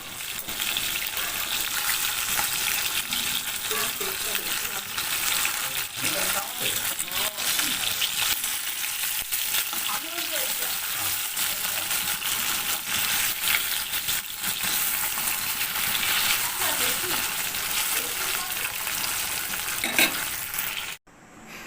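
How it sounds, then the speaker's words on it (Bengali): Koi fish fry in hot mustard oil, giving a dense, continuous sizzle and crackle close to the pan, with occasional stirring clatter throughout. "সর্ষের তেলে আমি মাছগুলো প্রথমে ভেজে নিচ্ছি"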